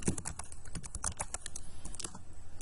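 Fingers type a spreadsheet formula on a computer keyboard, producing a rapid, steady stream of close, crisp key clicks with no pauses and no talking.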